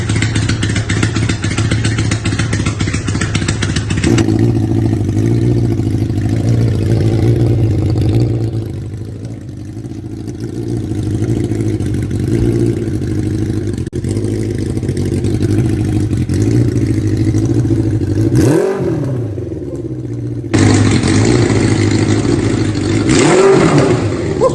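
A custom cafe racer motorcycle with a monoshock rear runs loud and close, its engine idling with a steady rumble, then rising and falling through a couple of sharp revs near the end.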